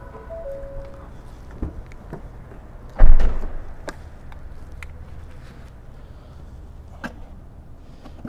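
The trunk of a 2021 Ford Explorer standard trim is shut, giving one solid thump in the middle of a steady background hum, with no talking.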